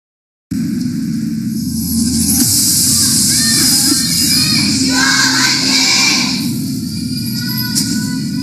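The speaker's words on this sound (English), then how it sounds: "Crowd cheers." A large crowd roars and cheers at a Kespa Cup 2016 League of Legends esports match between SKT and MVP, a loud sustained din that swells in the middle and stays full to the end.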